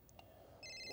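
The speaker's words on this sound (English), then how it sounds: "Someone is calling me." A phone ringtone starts up partway through, a steady electronic ring that is close and fairly quiet after a couple of faint blips.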